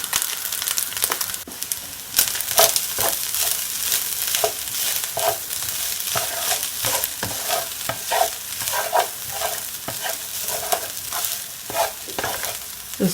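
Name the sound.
eggs frying and being stirred for hibachi dinner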